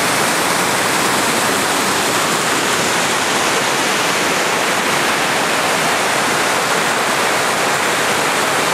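A waterfall on a hiking trail pours steadily and loudly close by, a dense unbroken rushing roar with no pauses.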